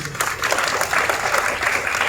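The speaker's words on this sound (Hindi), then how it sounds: "यार मैंने सुना था स्कूलों में बच्चे लोग बात बात पे तालियां बजाते हैं।" Students in a school burst into clapping and applause, a dense, steady patter of many hands close by with little else heard.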